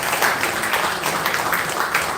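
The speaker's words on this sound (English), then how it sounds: "So I would like you to please applaud gentlemen of the class" Dense, steady applause from an audience filling the whole moment, continuous clapping at a fairly loud level with no voices over it.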